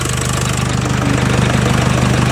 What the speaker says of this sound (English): So now the engine is running for a while.